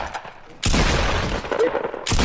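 A loud burst of rapid video game gunfire erupts after a quiet moment, sustained and dense, then briefly drops before another burst starts.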